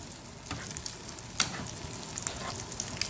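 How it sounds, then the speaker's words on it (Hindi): Eggs stirred loosely in a pan like bhurji for chapli kabab, giving a soft steady sizzle with scattered spatula scrapes and taps, close and alone. "मैंने इसको बस ऐसे ही स्क्रैम्बल्ड एग की तरह, मैंने इसको भुर्जी की तरह बस ऐसे ही मिक्स कर लेना है"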